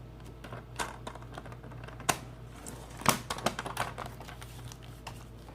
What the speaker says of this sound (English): So I'm just doing the first line that's on my paper trimmer right here.